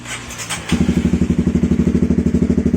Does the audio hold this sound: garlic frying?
no